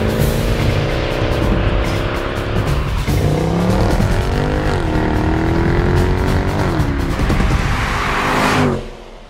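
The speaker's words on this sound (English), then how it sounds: "Acceleration in this car is absolutely bonkers." A 2014 Mercedes-Benz C63 AMG Edition 507 wagon accelerates hard, its loud engine note climbing through gears with rising and dipping tones, close and continuous before cutting off abruptly at the end.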